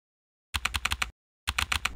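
Two quick bursts of typing on a computer keyboard while entering a search term in keyboard-shortcut preferences of the Dorico notation software, each run made of about five sharp, close key clicks separated by a short silence.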